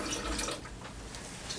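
Water runs steadily from a bathroom sink tap during handwashing, a continuous close splashing hiss that eases slightly partway through as the faucet is turned off using a paper towel.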